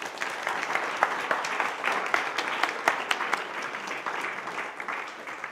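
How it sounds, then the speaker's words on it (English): Sustained applause from a design conference audience, steady dense clapping throughout with scattered louder individual claps, no talking over it. "A big round of applause."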